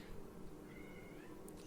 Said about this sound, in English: I don't know if you hear MJ meowing in the back